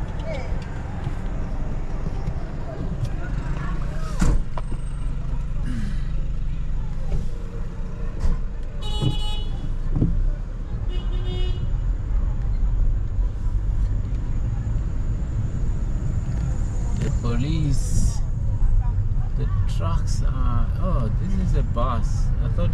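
A truck loads at a busy Johannesburg street corner while traffic rumbles steadily, with occasional clanks and beeps and a person talking over the noise.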